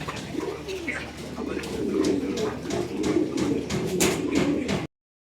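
Pigeons coo softly and repeatedly in a low, rolling murmur at a pigeon house in Gazipur, with faint rustling and other birds nearby.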